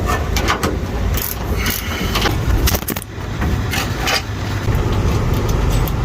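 A ratchet tightens transmission bolts under a car, giving close repeated clicking strokes in short bursts over a rumbling background.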